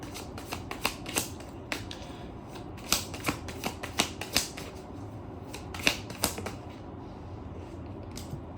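A deck of tarot cards is shuffled close by in repeated riffling bursts, the crisp flutters coming in uneven clusters over a faint steady background.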